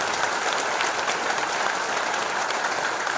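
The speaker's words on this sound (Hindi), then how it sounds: "आप लोग दिल से वंदन एवं अभिनंदन तालियों से स्वागत कीजिए" A crowd applauds steadily, a dense wash of clapping throughout.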